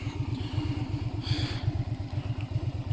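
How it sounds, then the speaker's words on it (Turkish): A small Honda Shadow 125 V-twin motorcycle engine idles steadily nearby, with a low, even chugging pulse and a faint rattle, running alone without talk. "Honda Shadow 125 diye bahsettiğim motosiklet bu."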